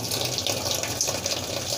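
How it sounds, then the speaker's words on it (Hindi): Water runs steadily into the tub of a semi-automatic washing machine being filled for a wash, a constant close splashing gush with no talk over it. "आप देख सकते हैं यह पानी हमारा गिर रहा है।"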